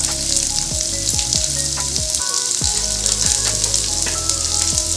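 Garlic cloves and other ingredients roast together in a pan for a Makar Sankranti bhogi vegetable dish, a loud continuous sizzle broken by repeated spatula strokes and scrapes at an uneven pace, close up with no voices.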